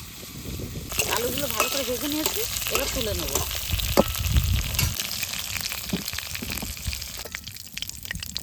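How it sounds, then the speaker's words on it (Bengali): Potatoes drop into mustard oil left over from frying fish, setting off a rising sizzle and crackle that continues for several seconds while a person talks over it. "মাছ ভাজা তেলের মধ্যে আলুগুলো ভেজে নেবো"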